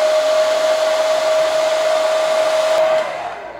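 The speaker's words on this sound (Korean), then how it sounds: "여기다가 드라이기로 열을 넣어주면 돼요." A hair dryer blows hot air onto hair lifted at the roots with a root volume curler: a loud, steady close-up whoosh with a thin whine that cuts off just before the end.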